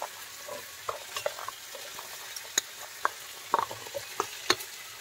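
Garlic and spices fry in hot oil for a mustard rohu fish curry, a quiet steady sizzle with sharp scattered pops and crackles close by and no voice.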